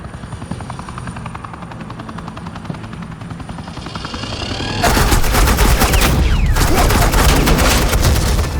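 Suppressing gunfire in a Batman Telltale Games Season 2 action scene, with loud bursts of rapid automatic fire and booming shots over a helicopter drone. The shooting rises sharply partway through and stays dense and close.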